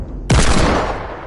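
Gunfire in a shooter video game: a sudden loud blast that cuts in after brief quiet and rolls on as a dense, crackling burst that slowly fades.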